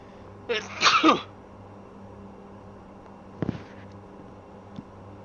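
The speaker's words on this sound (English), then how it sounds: "Sorry, just having a bit of a sneeze there." Single loud human sneeze in an aircraft cockpit, a sharp burst with a brief lead-in, followed by a couple of faint clicks and rustles over a low steady hum.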